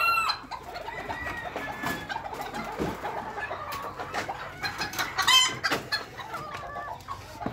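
Miniature roosters and chicks on a ranch breeding pen cluck and chirp steadily, with some crowing mixed in. Several birds sound at close and middle distance, and no one talks.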